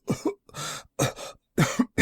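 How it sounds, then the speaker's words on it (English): Series of harsh, close coughs in quick bursts, roughly five separate hacking fits with short pauses between them. "How long have you had that cough?"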